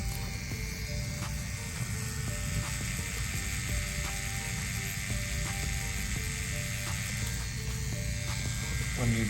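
A tattoo machine shades dragon scales with its needle turned sideways, giving a steady close electric buzz with faint mechanical ticking that runs throughout without a break.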